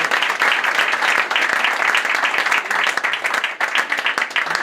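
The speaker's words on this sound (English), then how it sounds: "Let's give everybody a big round of applause." Dense applause from an audience at a community heritage event honoring a sister city, steady and continuous throughout, with no voices rising above it.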